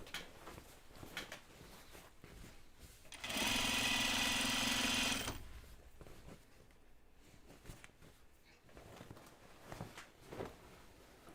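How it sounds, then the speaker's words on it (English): Sewing machine running a single row of topstitching along a seam on denim jeans, a steady loud mechanical whir lasting about two seconds between quiet handling noises. "I'm just going to do a single row of top stitching"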